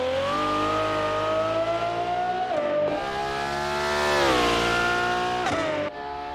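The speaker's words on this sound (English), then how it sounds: "all those exhaust rattly sounds, the punch on upshift and downshift." A race car in the Assetto Corsa driving game revs hard and climbs through the gears, its exhaust rattling and popping with sharp dips at each upshift, loud and close with no speech.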